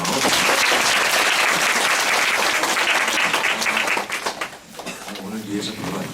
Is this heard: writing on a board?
no